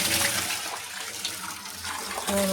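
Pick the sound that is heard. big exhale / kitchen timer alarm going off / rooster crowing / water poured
water poured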